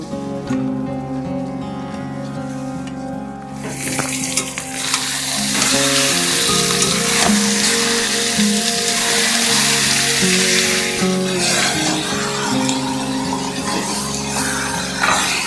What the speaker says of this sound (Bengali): এবার ম্যারিনেট করা চিকেনটা আমরা দিয়ে দেব।